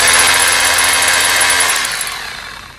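A Bulldog rotary hammer runs in hammer-only mode, a loud, steady, dense hammering buzz that holds close and even for most of the stretch before easing off toward the end.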